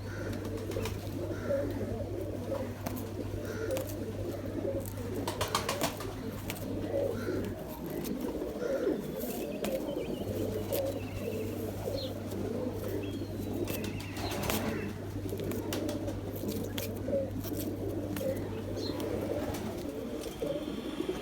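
Pigeons coo repeatedly in a low, throaty rhythm, with occasional wing flaps and a steady low hum in the background.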